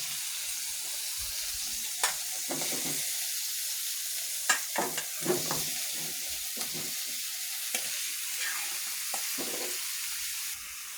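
Bottle gourd frying in spiced oil in a pan, a soft continuous sizzle broken by repeated scraping and clacking stirring strokes, close and fairly quiet.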